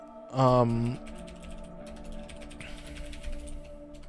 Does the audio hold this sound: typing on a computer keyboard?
yes